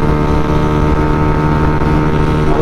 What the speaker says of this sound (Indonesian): Ntar ini gua ngecek dulu kipas. Udah nyala guys.